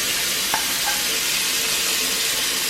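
Mushrooms frying in a pan for a bacon cheeseburger, a steady broadband sizzle held close and fairly loud throughout, with a couple of faint clicks early on and no talking.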